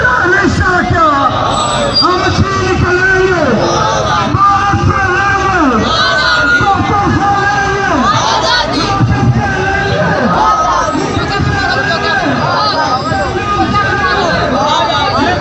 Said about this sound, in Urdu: مظاہرین نے بھارتی مظالم کے خلاف شدید نعرے بازی کی۔